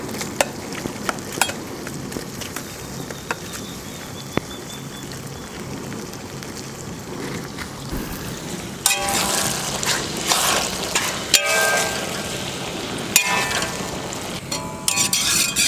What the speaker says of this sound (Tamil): தக்காளியை லைட்டாக கலந்து விட்டுட்டு